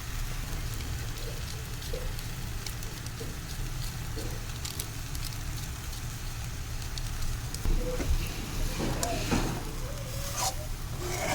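Noodles and vegetables stir-frying together in a pan for vegetable noodles, a steady close sizzle and crackle with scattered spatula scrapes and clatters toward the end, no voices.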